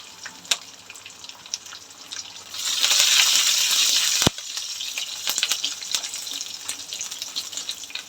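Curry leaves and garlic cloves sizzle over high heat in a pan while prawns masala is cooked. The frying hiss is steady, with scattered crackles and a louder burst midway, close and without speech.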